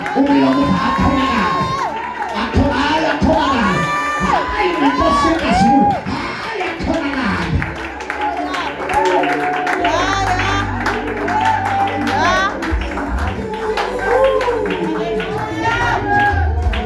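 A church congregation at a Monday prayer and fasting service cheers, whoops and shouts in praise, loud and lively, with clapping mixed into the crowd noise and a voice calling out over it.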